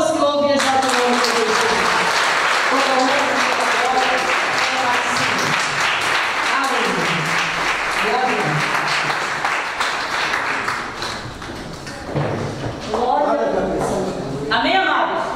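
A church congregation claps steadily through a worship service, a dense continuous patter mixed with a voice speaking and singing over it, easing briefly near the end before picking up again.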